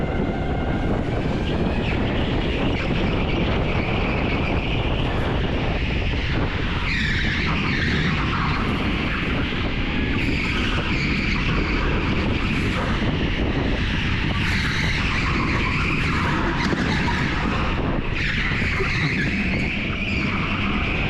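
Go-kart sliding and skidding around a corner on a slippery wooden surface at TeamSport Stoke indoor karting track, a loud continuous engine drone with tyre scrub throughout, no talking.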